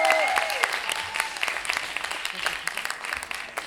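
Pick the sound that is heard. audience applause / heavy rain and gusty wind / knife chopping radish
audience applause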